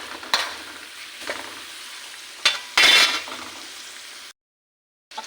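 Shrimp paste (bagoong alamang) sautés for pinakbet, a soft sizzle broken by several stirring scrapes and spatula clatters, one louder burst, then a brief silence.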